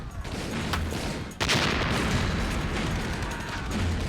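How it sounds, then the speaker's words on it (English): Rifle fire and grenade blasts in the battle of Iwo Jima form a dense, loud wash of crackling shots and booms, with a sharp heavy burst partway through, no voices. "The Japanese in the right bunker keep the Marines away with a steady barrage of rifle fire and grenades."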